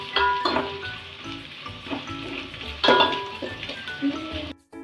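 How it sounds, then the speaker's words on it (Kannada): Chopped onions frying in a pan for vegetable pulao: a loud, close sizzle with spatula scrapes and clinks of stirring, swelling in bursts and cutting off abruptly at the end. "ಫ್ರೈ ಮಾಡಿ ಸ್ವಲ್ಪ ಈರುಳ್ಳಿ ಎಲ್ಲ ಫ್ರೈ ಆಗಬೇಕು."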